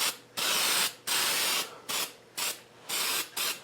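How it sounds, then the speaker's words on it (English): Alasco galvanised zinc spray paint hisses from an aerosol can onto brake parts in six bursts of varying length, loud and close, separated by short silent gaps, with no talking. "I picked up this Alasco galvanised spray"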